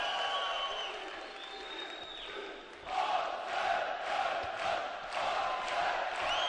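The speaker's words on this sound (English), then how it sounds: "And the Azerbaijani crowd really getting behind their man Mammadov." Azerbaijani crowd at a 2011 AIBA World heavyweight boxing bout, rhythmic chanting and cheering in waves from a large arena, rising after a quieter start with tonal sounds early on.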